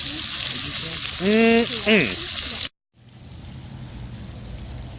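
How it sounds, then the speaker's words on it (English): Bacon fries in a pan while cooking on the road, a close, steady sizzle with a short spoken voice over it, then an abrupt cut to a quieter, softer sizzle. "we're gonna need to cook up some bacon here"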